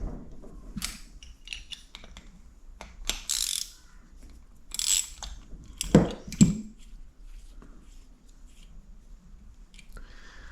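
Ratchet clicking in short bursts while loosening the two nuts on a Honda CR125 two-stroke motorcycle's power valve, quiet workshop sounds between the scattered clicks and clanks.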